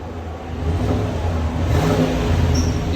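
Chevy/GMC 6.6L V8 Sierra SLE on its stock exhaust revving up, a steady full mid-low engine drone that swells after the start and holds loud and close throughout.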